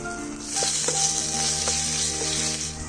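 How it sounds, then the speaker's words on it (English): Ginger garlic paste sizzles steadily in a hot pan for veg cutlets, a close, constant frying hiss with a few soft scraping stirs. "So the ginger garlic paste has been frying for about a minute."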